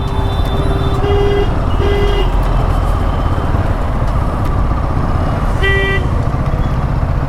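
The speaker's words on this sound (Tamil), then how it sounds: "இவனுங்க வேறு ஹார்ன் அடிச்சுட்டே இருப்பானுங்க." Vehicle horns honk in rainy city traffic, several short toots over a constant heavy rumble of engines and road noise, close and loud.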